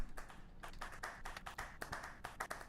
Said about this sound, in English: let's give it a round of applause for our next speaker